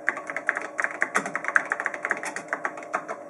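Steady run of keystrokes on a computer keyboard as a comment is typed into an assembler program, close and clear with brisk, slightly uneven clicking and no voice.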